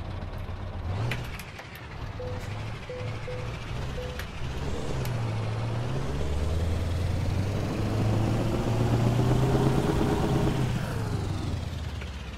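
A heavy truck in Euro Truck Simulator cranks and starts, then idles and revs with a low diesel rumble, accompanied early by short repeated warning beeps and a hiss of air.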